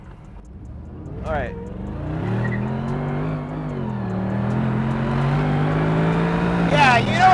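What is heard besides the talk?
Mercedes SLR car engine revving, accelerating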